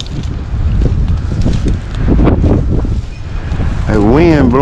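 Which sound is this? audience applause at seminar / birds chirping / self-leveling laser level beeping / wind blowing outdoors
wind blowing outdoors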